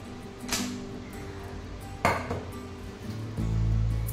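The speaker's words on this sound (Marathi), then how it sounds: "थोडस आपण असं सुरी फिरवून घेऊया डब्यामध्ये" A knife scrapes and clinks against the inside of a hot metal dhokla tin, giving a few separate metallic taps and scrapes over soft background noise.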